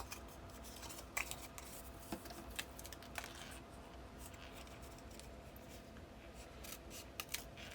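Scissors make small, quiet snips through paper or card stock while a gift box album is being made, a few sharp clicks over soft rustling, close by with no speech.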